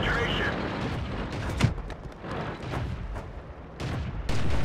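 In a tank battle video game on the Ensk map, a single sharp cannon shot booms once over a rumbling battlefield, with a voice talking throughout.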